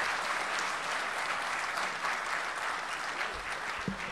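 Audience clapping at a Urdu poetry gathering, a dense, sustained round of applause from a large crowd, steady and fairly loud for the whole stretch.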